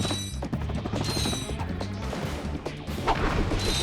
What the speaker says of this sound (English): You need either bomb glove or the well, any of those explosive type weapons, or the red crate to detonate them.